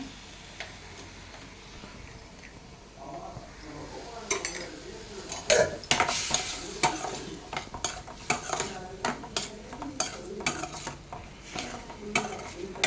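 Vegetables seasoned with pink rock salt are stirred in a pan for veg kurma, a spoon scraping and clinking against the metal in a quick, uneven rhythm over a faint sizzle.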